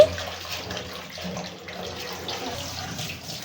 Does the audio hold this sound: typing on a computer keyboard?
no